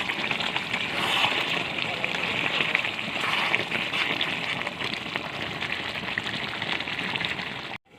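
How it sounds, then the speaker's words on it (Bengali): Curry in a covered pot on the stove reaches a boil, giving a steady, close bubbling and spattering hiss that runs evenly through the whole stretch before cutting off abruptly at the end. "দেখুন বলক এসে গেছে"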